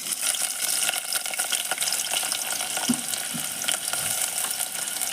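Chopped onions sizzling steadily as they drop into hot refined white oil for a home-style beef curry, a dense continuous hiss with faint stirring clinks, close and with no talk.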